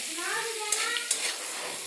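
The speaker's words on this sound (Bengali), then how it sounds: "ভালো করে লাড়িয়ে দেবো।" Soybeans seasoned with turmeric and salt are stirred as they fry in a pan. The sizzle is soft and steady, a couple of brief scraping clicks cut through it, and faint voices sound in the background.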